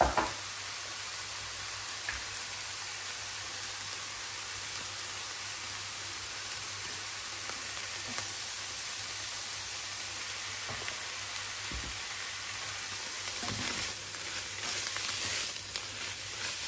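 Seasoned stuffed-mushroom filling with salt and black pepper stirred in a frying pan, a soft steady sizzle running throughout with faint occasional knocks of the utensil, growing slightly louder near the end; no talking.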